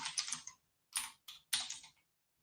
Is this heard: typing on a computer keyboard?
yes